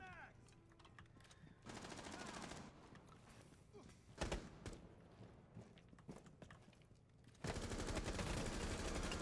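Gunfire in Rainbow Six Siege, several rapid automatic bursts and sharp single shots spread across the stretch, loud and close, with brief talk mixed in.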